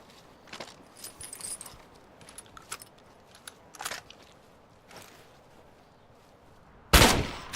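Gunfire in the State of Decay 2 video game: scattered soft clicks and shuffles, then a single loud, sharp shot near the end standing out clearly against a quiet background.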